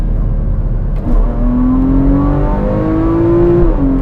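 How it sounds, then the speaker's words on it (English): A Porsche 981 Cayman S with Fabspeed F1 headers rumbles loudly up close, its pitch sliding upward through a rev on a downshift from third to second, with no talking. "It's the downshift from third to second."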